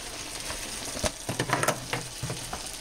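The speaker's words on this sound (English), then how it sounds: "she'll stir them around and let them cook for about 5 minutes only" Ingredients for cheeseburger macaroni cooking in a pan, a quiet steady sizzle with a short run of scraping stirs in the middle.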